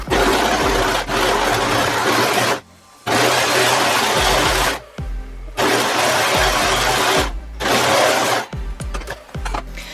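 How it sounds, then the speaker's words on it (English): Overlocker sewing machine stitching the hem of a scuba fabric pencil skirt, loud steady whirring runs in three long bursts separated by short pauses, then a few brief stop-start runs. "So you are now completely done with your overlocker."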